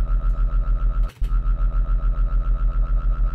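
Phase Plant synth drum-and-bass bass layering a fast granular generator with a slower detuned triangle wave, a steady pulsing throb repeating evenly with a brief dropout near the start, loud and alone.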